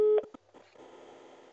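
A busy signal on an analog telephone connected to an Alcatel OXO exchange sounds as a loud steady tone at the very start and then cuts off, followed by a few short clicks and low line noise.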